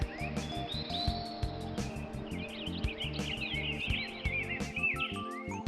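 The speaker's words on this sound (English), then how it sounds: "we can take in some sun set to the sounds of birds chirping outside" Birds chirp outside an open window on a Counter-Strike house map, bright tweets and trills layered over a steady, pulsing low game ambience, moderately loud and continuous.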